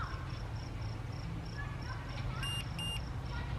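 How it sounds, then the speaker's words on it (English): A Global Link Ultra E Pro electronic RV door lock gives two short, clear beeps late on, over steady low background hum and faint insect-like chirping. "It beeps"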